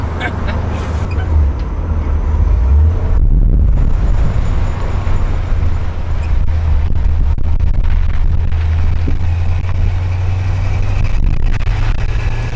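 A Ford Mustang engine runs with a deep, loud, continuous rumble as the carburetor secondaries open, the roar swelling and holding steady under a voice.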